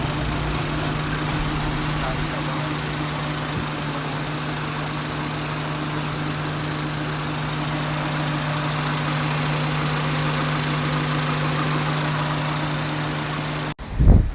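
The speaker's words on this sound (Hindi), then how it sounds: "अब आप ये साउंड सुने इंजन का" A Suzuki Cultus VXRi engine, freshly fitted with new piston rings, idles steadily with a low, even rumble and faint vibration for a long stretch, ending in a brief louder burst.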